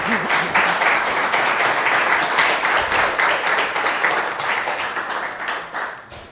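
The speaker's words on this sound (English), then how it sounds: "Give her a warm hand of applause" Sustained applause from a lecture audience welcoming a speaker, dense and steady clapping that stays loud throughout and tapers slightly at the end.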